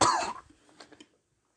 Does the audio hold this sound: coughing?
yes